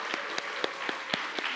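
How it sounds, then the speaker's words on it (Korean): A Methodist church congregation in Singal, South Korea, claps together at an autumn revival evening service. The applause comes as steady rhythmic claps at a moderate, even level, with no voices over it. "우리 한번 박수 한번 보냈으면 좋겠습니다"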